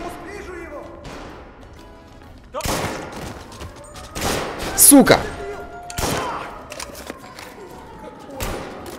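Shotgun blasts in the Mafia: Definitive Edition video game, several sharp booming shots spaced a second or more apart amid game noise, with someone shouting briefly over the action.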